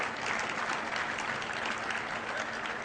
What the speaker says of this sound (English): that's getting a big applause in case you can't hear it over there